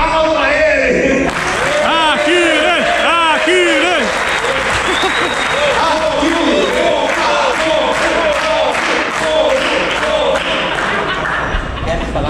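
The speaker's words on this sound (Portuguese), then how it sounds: "Palmas aqui, ó, salva de palmas" An audience at a drum show on a drummers' tour gives loud, sustained applause, with shouts and cheers running through it and voices audible over the clapping.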